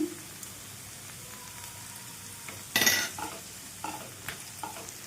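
Curry leaves and coriander stems fry and get stirred in oil in a pan, a soft steady sizzle with one sharp louder spatter and several brief scrapes nearby, no speech.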